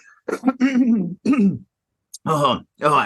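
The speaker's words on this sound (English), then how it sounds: "Old man cough" A man clears his throat and coughs in a few rough, close bursts separated by short pauses, with no talking.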